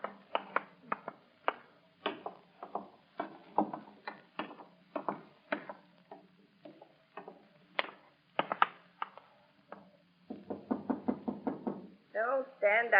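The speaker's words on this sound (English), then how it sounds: "Don't stand out there and knock." Knocking on a door as an old-time radio sound effect, a series of sharp raps in bursts across the span, interleaved with dialogue from radio drama voices.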